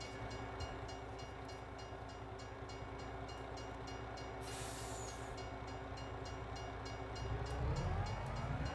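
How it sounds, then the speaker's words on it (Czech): A train passes by in Farming Simulator 22 with a continuous rumbling roll and rhythmic clatter, a brief hiss partway through, and the noise swelling louder near the end, no voices. "Ať ten vlak tady projíždí, to je děs."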